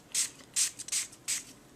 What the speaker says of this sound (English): And you just spritz,